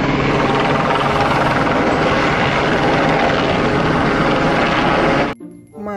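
A toy helicopter produces a steady, loud, continuous rotor-like whir lasting about five seconds, then cuts off abruptly, leaving only a brief faint tail.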